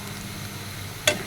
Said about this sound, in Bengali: গরম তেলের মধ্যে ছেড়ে দিচ্ছি কুচি করে নেওয়া পেঁয়াজ এবং কাঁচামরিচ